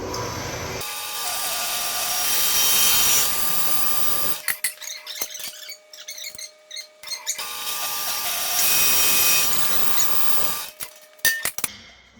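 Metal stock being cut in a fabrication shop for large towel-rack pieces, a loud, steady grinding cut running about four seconds, a pause with clanks and handling, then a second long cut and a few sharp knocks.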